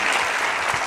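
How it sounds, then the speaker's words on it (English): Steady audience applause filling the whole moment at a live talk-show style school panel, dense and continuous clapping from a crowd with no voices over it. "Everybody, y'all got to clap it up for this answer right here."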